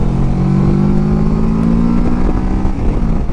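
A Kawasaki motorcycle engine on the move during a road trip, a steady, loud, close drone with a smooth tonal hum that holds even throughout, with no talking.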